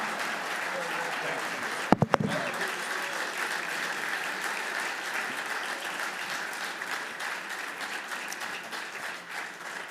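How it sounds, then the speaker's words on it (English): At a soccer trophy banquet, an audience gives sustained, steady applause for a special guest, a dense wash of clapping lasting several seconds after a few sharp opening claps. "A nice concluding round of applause to our evening for our special guest, Anson Dorrance."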